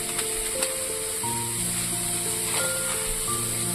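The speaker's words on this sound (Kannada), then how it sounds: "ಎಲ್ಲ ಹಾಕಿ ಮಿಕ್ಸ್ ಮಾಡಿ ಫ್ರೈ ಮಾಡಬೇಕು" Chopped onion frying in a pan with cinnamon, cloves, cardamom, cumin and fennel for butter chicken masala, a steady close hiss and sizzle running throughout, with faint stirring and a few tonal clinks over it, no talking.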